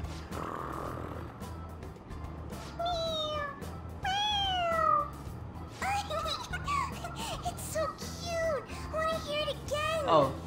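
A cartoon cat in Persona 5 Royal lets out a run of high, bending meows, several in quick succession, over a constant low game hum and soft background noise.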